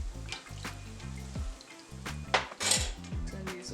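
Cornmeal bakes fry in oil in a pot, a soft sizzle under intermittent clinks and scrapes of metal utensils against cookware, with short irregular clatters close by.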